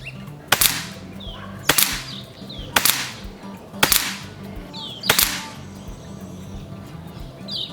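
Air rifle firing .22 JTS 22 grain pellets, five sharp close shots spaced about a second apart, each a crisp crack with a brief ringing tail over quiet outdoor background.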